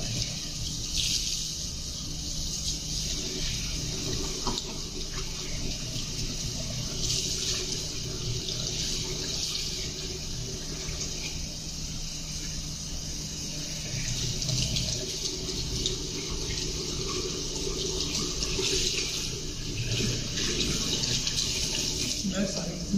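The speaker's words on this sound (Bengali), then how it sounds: "তারপর এটা জাস্ট এখানে ওয়াটারে ধুয়ে ফেলে দেবো" Tap water runs steadily into a sink as a hot fat-extraction beaker from a BUCHI FatExtractor E500 is rinsed, a continuous splashing flow that holds its level throughout.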